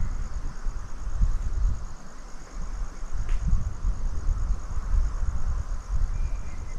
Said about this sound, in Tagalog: Yung sounds, yung tunog ng kagubatan.